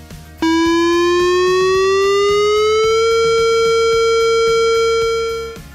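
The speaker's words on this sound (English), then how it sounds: "The siren will enunciate and will sound like this." A loud outdoor emergency siren starts abruptly and holds a steady, slowly rising wail for several seconds before fading slightly at the end.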